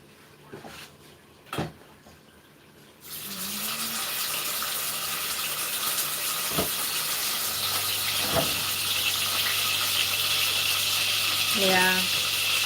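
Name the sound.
food frying in oil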